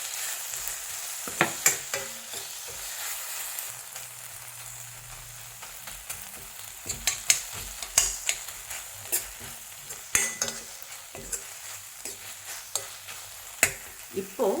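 Chopped tomatoes are tipped onto sautéed onions in a hot pan for a moong dal curry, giving a soft continuous sizzle broken by irregular scraping and tapping of a spoon as the mixture is stirred.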